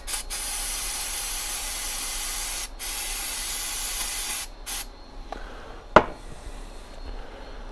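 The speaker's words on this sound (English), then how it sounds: "I got a little starting fluid I use for cleaning" Aerosol starting fluid sprayed to clean parts on a 1934 John Deere L tractor, a loud steady hiss running several seconds with brief breaks, then a sharp clank and quieter handling noises close by.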